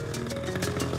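A motorbike engine running on ethanol fuel, a close, buzzing idle with rhythmic pulsing revs and a steady mechanical drone, no voices over it.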